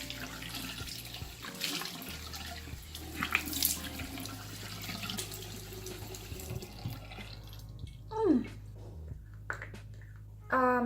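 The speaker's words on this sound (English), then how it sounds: "the first step I should do is wet my face. I am using lukewarm water." Lukewarm water runs from a tap into a sink as a face is wetted, splashing steadily, with a few brief handling sounds and a faint squeak near the end.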